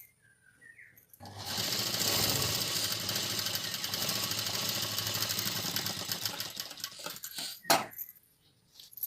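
Sewing machine stitching a folded cross strip of fabric, one sustained fast rattling run of about six seconds, close and loud, ending with a few clicks and a sharp tap.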